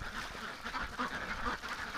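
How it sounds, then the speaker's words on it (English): Ducks quack and splash in a water tub outdoors in winter snow, a near, busy jumble of nasal calls and sloshing with a faint murmur of other birds. "the ducks have just been going crazy in the tub here"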